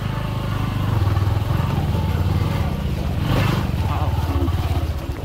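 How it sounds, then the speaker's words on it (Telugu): Motorcycle engine labouring and revving unevenly while the bike reverses on a rough forest track near a small channel, loud and close, with voices talking over it. "మా బైక్ అయితే అసలు లాగట్లేదు"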